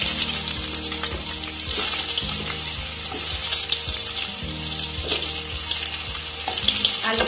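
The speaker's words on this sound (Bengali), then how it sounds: "একই তেলের মধ্যে আলুর টুকরোগুলো দিয়ে দিচ্ছি।" Potato pieces fry in hot oil left over from frying tangra fish, a steady close sizzle and crackle, with a few soft knocks of utensils against the pan.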